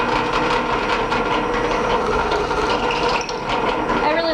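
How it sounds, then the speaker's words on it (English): A drill press bores through wood with a steady, dense grinding whine that runs continuously and loudly throughout, with faint mechanical rattles near the end. "but I can show you how I use the drill press."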